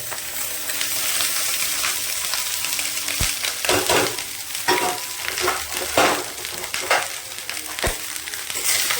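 Leftover rice fried in a pan with egg for a Bengali panta bhat dish, steady sizzling and frying under irregular scraping and stirring strokes of a spatula, close and moderately loud.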